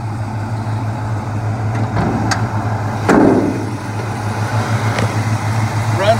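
A 1972 Chevrolet Cheyenne Super Sport big-block short-bed pickup idles steadily with a low, even rumble, a faint click or knock rising briefly partway through.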